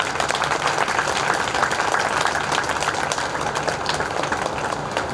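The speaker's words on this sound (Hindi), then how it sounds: "इसके बाद ताली हो जाए" An audience claps together at a Buddhist Dhammachari initiation ceremony, a dense, steady wash of applause lasting the whole stretch without letting up.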